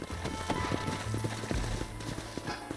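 Horses in Red Dead Redemption clop along with scattered hoof strikes over a steady game-world ambience, irregular steps close by, no talk during the clip.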